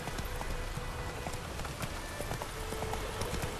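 Horse hooves clip-clop at a steady riding gait in The Witcher 3: Wild Hunt, a continuous close run of hoof strikes over a soft ambient bed.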